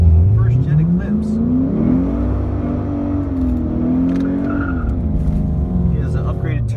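First-generation Mitsubishi Eclipse with an upgraded turbo, upgraded exhaust and front-mount intercooler at a drag strip, its engine droning loud and steady throughout with rising and falling pitch, while people talk nearby.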